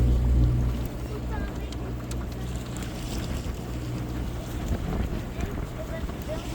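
Steady, strong wind buffeting the microphone outdoors on a boat, with a low rumbling roar and water sounds throughout, loudest at the start.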